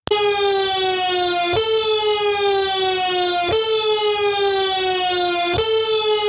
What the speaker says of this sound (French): Ça, c'est l'alarme d'intrusion.